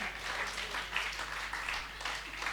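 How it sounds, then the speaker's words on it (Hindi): Faint applause from a crowd at a poetry gathering, a soft continuous patter of clapping hands with gentle swells, distant and low in level. "तालियां बजा दीजिए उनके लिए।"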